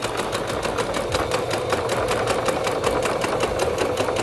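A sewing machine stitching paper bag bloomers runs steadily and loudly up close, its rapid needle strokes forming an even, continuous mechanical chatter with no pauses or voices.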